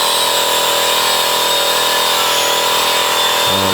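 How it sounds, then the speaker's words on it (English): An air compressor powering a spray painting job in a shed hums loud and unbroken, a steady mechanical drone with a brief low rumble creeping in at the end. "there's a bit of spray painting going on over there, hence the noise from the compressor"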